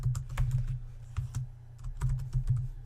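Typing on a computer keyboard while entering text into an iOS app text field in Xcode, with clusters of close, crisp key clicks in quick bursts and brief pauses between them, over a steady low hum.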